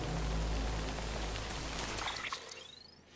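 Steady rain in a video game, a dense hiss of falling drops that fades out near the end, giving way to faint higher tones and sparse sounds.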